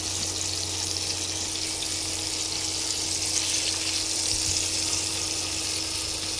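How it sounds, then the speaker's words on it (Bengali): Magur catfish fry in a pan with a steady, even sizzling hiss that carries on without a break, close and moderately loud, with no voices. "ভেজে নিচ্ছে মাছগুলো সম্পূর্ণ।"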